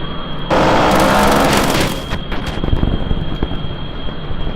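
Vulcan turrets firing in Kerbal Space Program with a combat mod, a loud sustained burst of rapid gunfire that cuts in suddenly, then breaks into scattered bangs and impacts with a steady high whine underneath.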